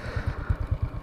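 Underbone motorcycle engine running in first gear, close by, with a steady rhythmic low throb of regular pulses and no voices.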